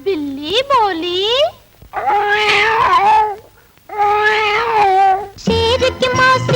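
A cat-like voice meows in long, wavering, sung cries, several in a row with short pauses, loud and close; it may be a person imitating a cat.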